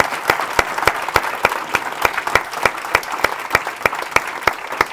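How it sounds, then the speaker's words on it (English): An audience applauds a Nobel laureate in economics at a talk, the clapping fairly sparse and distinct, with individual claps standing out in a steady, even patter close by. "Let's all give Michael Kremer a big round of applause."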